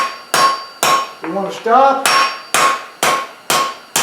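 A hammer strikes hot metal while a folded leaf is forged, taking out hammer marks; loud, evenly spaced blows ring out about twice a second, with a brief spoken phrase partway through.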